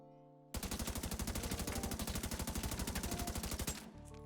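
Continuous rapid automatic gunfire from a looter shooter video game, a dense loud burst of evenly spaced shots lasting several seconds before cutting off.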